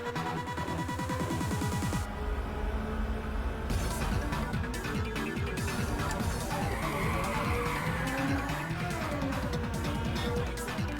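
Race cars in the Ridge Racer Type 4 video game roar continuously at full volume, engines droning while tires squeal and skid through long drawn-out slides.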